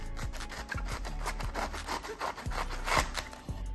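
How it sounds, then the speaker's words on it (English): A kitchen knife sawing through the top of a whole artichoke, a steady series of short rough rasping strokes close up, with no voices. "Trim off about a third or 1 inch of the top of the artichoke."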